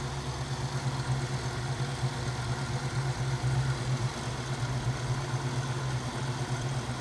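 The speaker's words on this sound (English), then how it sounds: "Now it's sitting idling." 1979 Pontiac Trans Am engine idling, a steady low rumbling drone with a slight even pulse, close by and continuous, with no talking.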